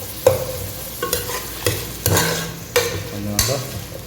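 Onions frying in a pan for bottle gourd mutton gravy, loud close sizzling punctuated by about six sharp scraping strokes of a ladle at irregular intervals, with no one talking.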